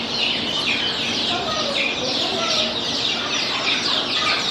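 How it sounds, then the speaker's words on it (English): Chickens cluck and chirp steadily on a farm in a dense, continuous flock chorus that sounds fairly close and stays at an even level throughout. "You like the little baby chicks?"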